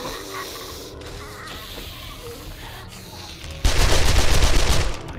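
An M60 machine gun in the console version of 7 Days to Die fires one loud sustained burst after a quieter stretch of game ambience, then cuts off abruptly.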